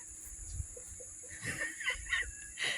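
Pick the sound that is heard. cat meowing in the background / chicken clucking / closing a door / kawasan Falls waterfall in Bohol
chicken clucking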